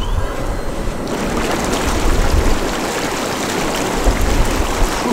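Bubble massage jets of a heated inflatable pool churn the water, a loud, steady bubbling roar that starts abruptly and keeps rushing with no talk.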